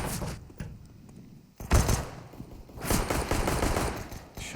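Gunfire in a CS:GO match on Mirage between NaVi and Liquid at the ESL One Cologne event: bursts of rapid shots, a loud sharp blast near the middle, then a longer sustained volley, all fairly close.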